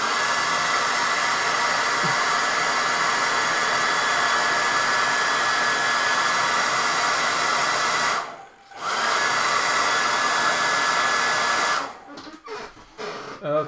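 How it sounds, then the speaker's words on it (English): A hair dryer blows steadily on a painted miniature, a loud, constant whooshing drone that cuts out briefly partway through, then resumes before clicking off amid handling noises. "So I do want to hit this with a hairdryer."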